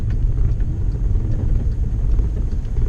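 A Volkswagen Golf GTI's engine rumbles low and steady from inside the car during a downshift on a snowy morning drive, a close continuous drone with no one speaking.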